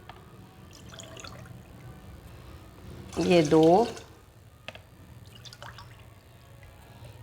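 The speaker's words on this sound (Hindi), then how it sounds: "और अब हम इसमें 3 कप पानी शामिल कर देंगे" Water pours into a cooking pot for a homemade cough and cold remedy, a brief gurgling splash of about a second that rises in pitch as the pot fills, surrounded by a woman's speech.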